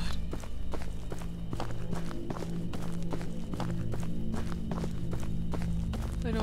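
Steady, fairly quick footsteps crunch along at a campsite in a video game, close and continuous for the whole stretch, with no talking.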